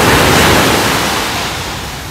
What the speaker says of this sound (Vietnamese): Để mình quay một vòng bờ biển Quy Nhơn cho các bạn xem nha.